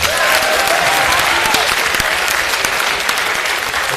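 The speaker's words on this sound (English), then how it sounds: "So give yourselves a round of applause." An audience at an author conversation event applauding themselves, loud, dense and even clapping from a full room that holds steady for about four seconds.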